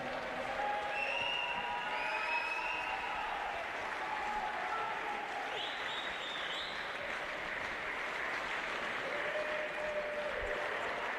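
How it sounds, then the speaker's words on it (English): Crowd at a BMX freestyle national championship gives a sustained round of applause for the Australian national champion, steady clapping heard at moderate distance, with faint whistles and cheers rising over it. "one more round of applause for our Australian national champion"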